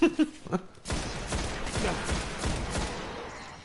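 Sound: gunfire from the video game Destiny

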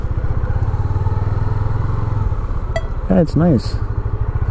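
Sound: Honda CB300F motorcycle riding in first gear

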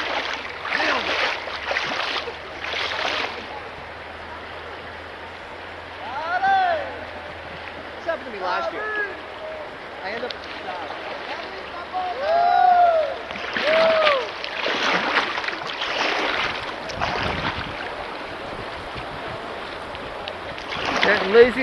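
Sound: boat going through river rapids on the Deerfield River

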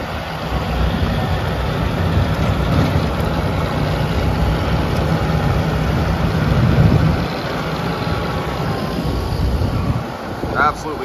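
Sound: Kubota M5-111 tractor snowblowing powder snow

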